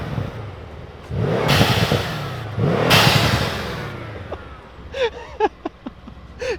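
Mercedes C63s AMG with Weistec blow-off valves, revved twice in quick succession with loud bursts and whooshing venting, followed by a few sharp pops and crackles as the engine settles.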